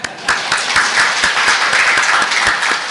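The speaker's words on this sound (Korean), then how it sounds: "주님께 영광의 박수 올려드립니다." Congregation clapping in a church, loud and close, with many sharp overlapping claps forming steady applause for the whole stretch.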